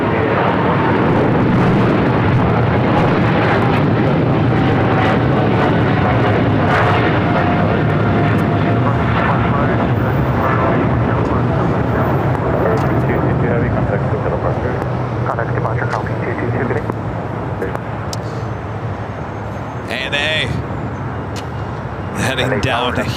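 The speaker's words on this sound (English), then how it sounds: "Heading down here for a south side takeoff" An airliner takes off from LAX's south side runway, its broad jet roar loud and steady throughout and easing slightly near the end, with voices over it.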